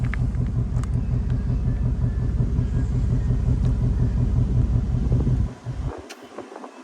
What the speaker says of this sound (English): All right, now she's going to switch it to the sport mode.